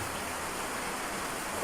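Heavy, unbroken rain pours down on a rural farm, a dense loud hiss with no pauses and no voices.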